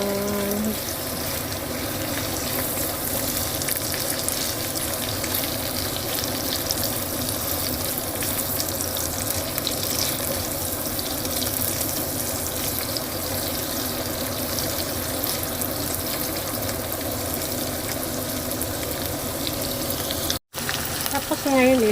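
Onion fries in a hot pan while tofu and eggplant are being cooked, making a steady, dense sizzle that holds at an even level and stops abruptly near the end.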